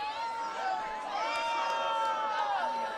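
A crowd at a high school boys' soccer match between Wilson and David Douglas cheers after a goal, a distant roar and chatter running steadily beneath a nearby commentator's talking.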